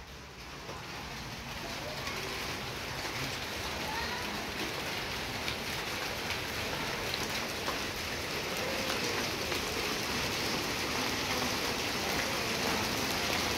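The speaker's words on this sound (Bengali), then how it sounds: "আর এই সবেমাত্র টুপটাপ টুপটাপ করে বৃষ্টি শুরু হলো।" Steady patter of light rain falling, a constant soft hiss with scattered drops, continuous throughout.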